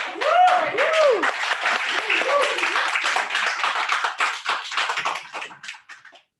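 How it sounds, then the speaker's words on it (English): Applause at a hybrid Toastmasters club meeting, a patter of clapping under a brief voice at the start, thinning and fading toward the end. "Please, I want to big round of applause."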